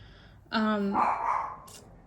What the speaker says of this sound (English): Again, I apologize for the dog barking.